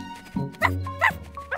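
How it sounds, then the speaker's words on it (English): A cartoon dog gives a few short barks and yips in quick succession, fairly close, with some other voice sounds mixed in. "I wonder who that other dog is!"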